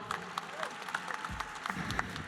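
A convention game-show audience claps for a contestant about to start a Jenga challenge, a short burst of crowd clapping with distinct individual claps and voices of people talking over it.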